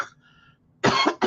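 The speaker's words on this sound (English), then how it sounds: "This is horrible with all this coughing." One person gives a short throat sound, then two loud, close, harsh coughs in quick succession, alone in a quiet room.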